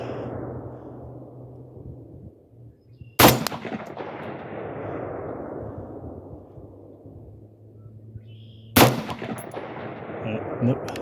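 Two loud, sharp AR-15 rifle shots fired at 4-inch clay disks on an outdoor range, several seconds apart, each one followed by a long fading echo over steady wind noise.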